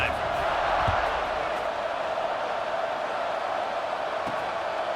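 Steady, wide wash of stadium crowd noise in College Football 26 during a Cal versus Arizona State game, a constant roar with a few faint thumps, under a commentator's voice.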